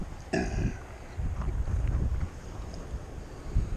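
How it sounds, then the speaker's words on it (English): Wind buffets the microphone in a steady low roar, with rumbling gusts and a brief tonal hum near the start. "It's pretty windy."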